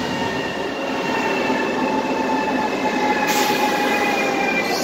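Pendolino express train travelling between Tarnów and Warsaw, a steady loud rolling rumble with tonal whine and hiss heard from inside, continuous with no talking.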